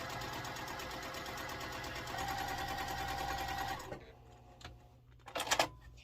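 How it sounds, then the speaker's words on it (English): A sewing machine runs steadily as it sews down the side of a Missouri Star quilt block, a close, continuous mechanical whir lasting several seconds before stopping, followed by a few light handling clicks and rustles. "So I'll just match my little seams up, my little creases. And sew down the side."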